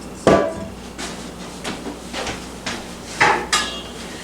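New steel nesting bowls clatter and clank as they are handled in a home kitchen, with a loud metallic knock at the start, several softer taps in between, and two more sharp clanks near the end, all close and with no talk.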